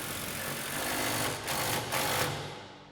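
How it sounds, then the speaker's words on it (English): Close, continuous mechanical whirring and buzzing from a 19mm swivel socket driving down a nut on a Jeep Gladiator JT sway bar, steady with a couple of brief dips. "Now we can tighten this down with our 19mm swivel socket"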